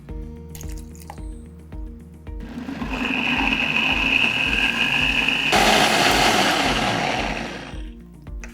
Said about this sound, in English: Now we blend all of this together.